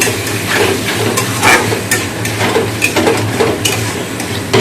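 Meat frying in a pan with rice masala, a steady close sizzle with scraping and clinking of a utensil against the pan, continuous without talk.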